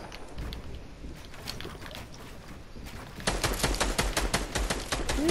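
Gunfire in Fortnite: sparse single shots at first, then a rapid, steady burst of automatic fire growing louder and closer, with no talking over it.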